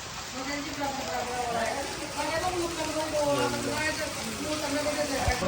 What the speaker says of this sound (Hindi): अब सिर्फ बारिश आ रही है